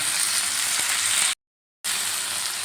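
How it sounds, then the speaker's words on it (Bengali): Chopped tomatoes frying in a pan give a continuous soft hiss and sizzle, cut off by a brief total dropout midway before resuming steadily. "টমেটো কুচিটা দিয়ে আবারও ভালো করে ভেজে নেবো"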